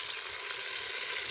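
Onions sizzling as they fry in hot ghee in a pan while a salan is being prepared, a steady, bright hiss that holds throughout with no voices over it.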